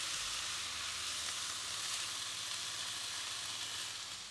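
Bacon sizzles steadily in a frying pan, a dense, even hiss that holds for the whole stretch, close and loud, with no voices over it.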